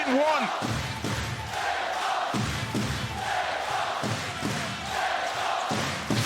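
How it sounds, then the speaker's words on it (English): Basketball arena crowd at a Fenerbahçe EuroLeague playoff game in overtime, with pounding bass drums, stomping feet and clapping in a steady rhythmic din, and a commentator talking over the noise. "the crowd up on their feet, the bass drums being pounded, feet being stomped and hands clapped"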